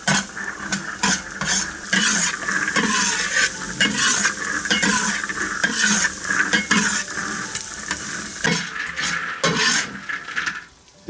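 Peanuts frying in a pan over low heat, a steady crackling sizzle with frequent stirring scrapes and clinks of a utensil against the pan, close and continuous for the whole stretch.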